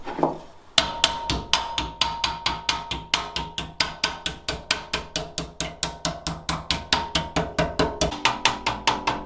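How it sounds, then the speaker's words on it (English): A hammer knocks a metal edge onto the steel top of a rusty homemade guitar, about forty sharp ringing strikes in a steady, quick rhythm, loud and close with no talking. "We just hit stuff with a hammer"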